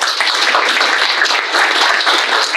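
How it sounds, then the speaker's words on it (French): An audience applauds landscape architects at a public presentation, a dense, steady wash of many hands clapping close and loud throughout, with no break. "si vous voulez bien les applaudir"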